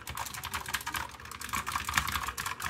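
Fast, steady typing on a clicky Royal Kludge retro typewriter-style mechanical keyboard, each keystroke crisp and close, with no talking.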